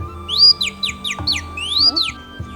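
Shrill warbling whistles from bird-call whistle instruments in Hanoi rise and fall in quick chirping bursts, mimicking birdsong, with a low steady hum beneath.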